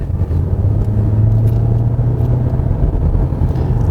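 Steady low engine rumble and road noise from inside a 2022 Hyundai Elantra (Avante) Hybrid as it gathers speed on a winding road, a droning hum with no talking.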